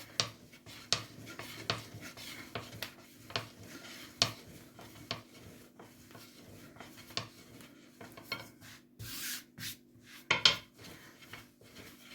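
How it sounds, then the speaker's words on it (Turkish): A rolling pin works floured pastry dough for minced-meat börek on a board, making irregular soft knocks and clacks at moderate volume over a faint steady background hum. "Üzerine bir miktar un koyarak açmaya başlıyorum."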